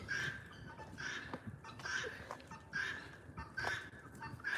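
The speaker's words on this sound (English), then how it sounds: "We got a chicken here." A chicken clucks in short repeated bursts at a moderate distance, the calls recurring about every second over a low outdoor rumble, during wood splitting.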